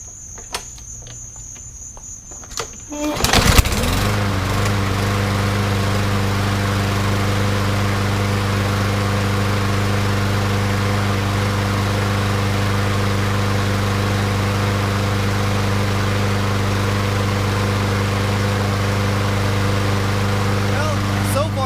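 A small lawn mower engine coughs into life after its carburetor has been repaired. It then settles into a loud, steady, continuous running drone close by with no breaks.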